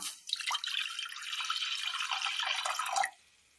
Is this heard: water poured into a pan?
yes